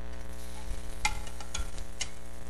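Chopped onion and garlic stir-fry in a hot pan with a steady, soft sizzle. A few sharp spatula taps and scrapes sound close by, with no voices.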